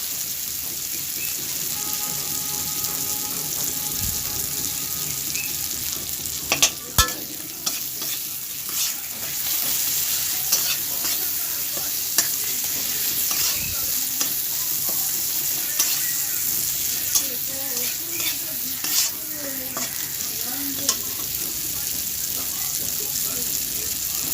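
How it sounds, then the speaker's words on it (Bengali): Stirring boiled red lentils and bottle gourd stems into a pan of melted tomato masala, a steady soft sizzle with scraping spoon strokes and a few sharper clinks throughout. "আমি ভালো মতো নাড়াচাড়া করে নেবো"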